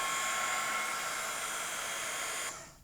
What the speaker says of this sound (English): So what I'm going to do is I'm going to take my heat tool.